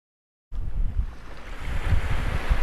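Ocean waves wash in at a beach while wind buffets the microphone, a steady, fairly loud roar that starts abruptly after a brief silence and carries no voices.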